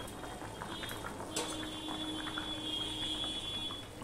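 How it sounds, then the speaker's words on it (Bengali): Katla fish curry with slit green chillies bubbles steadily in a pan over medium heat, a continuous close simmering hiss with faint popping and no voices. "তরকারিটা যখন ফুটে উঠেছে তখন আমি মিডিয়ামে দিয়ে ফুটিয়ে নিয়েছি"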